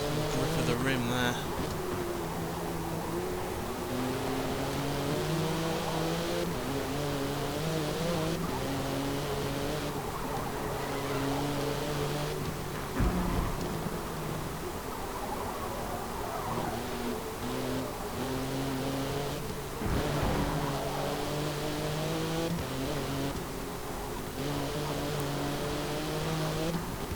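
A race car engine in Forza Motorsport 7 revs and shifts through gears with repeated rising whines and occasional tire scrubs, loud and continuous, with someone talking over it at times.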